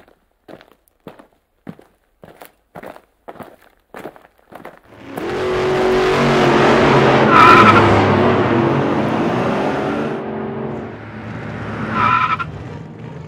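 A car drives up and skids to a stop with loud tire squeal, preceded by a run of distinct footsteps, the engine roar building and fading with a final screech.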